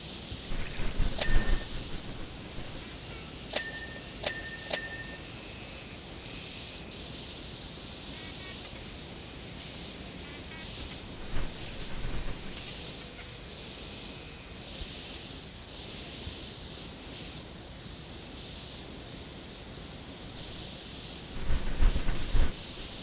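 A pressure washer in PowerWash Simulator 2 sprays water in a steady, broad hiss that runs throughout, with occasional brief clicks and thumps breaking through.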